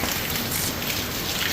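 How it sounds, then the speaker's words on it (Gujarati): Steady rain falls over a village in a dense, even hiss of drops, continuous and close, with no voices. "વરસાદ અમારે સવારનો આજ ચાલુ થયો"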